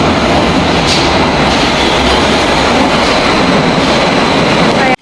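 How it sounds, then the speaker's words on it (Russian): A loud, continuous roar of a Berlin metro train arriving fills the clip, with rushing wheel noise and a faint high squeal, cutting off abruptly at the end. "Надеюсь, в этот раз попадется новый поезд."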